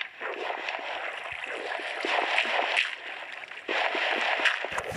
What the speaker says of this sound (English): And we can have a waterfall.